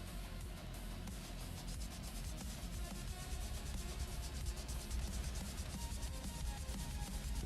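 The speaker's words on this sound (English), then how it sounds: "I'm using 80 grit right here on the back of this piece." A piece of a model M1A1 Abrams tank is sanded with 80 grit sandpaper, giving a steady close scratchy rubbing that runs continuously with no talking.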